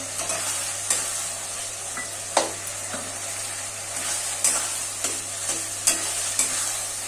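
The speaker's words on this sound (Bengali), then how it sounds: "আদা আর রসুনের পেস্টটা দিয়ে ভালো করে নাড়াচাড়া করে মিশিয়ে দিলাম আর এখন যে একটা টমেটো আমি চারফালি করে রেখেছিলাম দিয়ে দিচ্ছি" Tomato and ginger-garlic paste fry for chicken kosha while being stirred in a pan: a bright, continuous sizzle with a low steady hum, punctuated by regular sharp knocks of the spoon against the pan.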